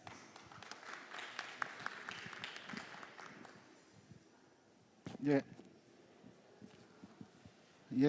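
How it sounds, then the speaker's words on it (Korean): Crowd applause at a panel discussion forum fills the opening seconds, a dense patter of many hands clapping that fades out, followed by a voice speaking. "큰 박수로 첫 번째 토론을 환영해 주시기 바랍니다."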